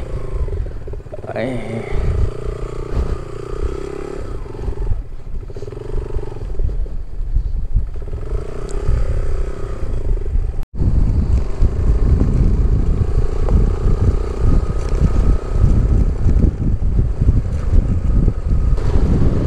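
A motorcycle rides through heavy mud on the way to a mud volcano on a Karachi to Bozi Top ride. The engine drones continuously under buffeting wind noise and grows louder and rougher after a brief break midway.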